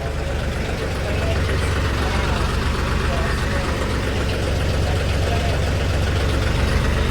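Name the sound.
tractor loaded with soil moving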